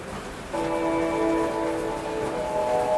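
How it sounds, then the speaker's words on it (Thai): Video audio from the built-in speaker of a Bmax B2 Plus mini PC: sustained, held musical tones that swell in after a quiet start, soft and thin with a light hiss underneath. No talking. "นี่คือเสียงลำโพงมันนะ"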